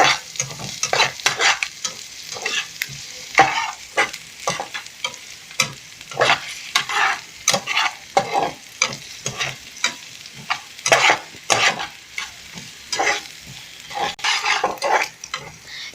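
Onions for a potato samosa filling fry in a pan while a spoon stirs them, giving rhythmic scrapes and clicks every second or so over a steady sizzle, with no talking.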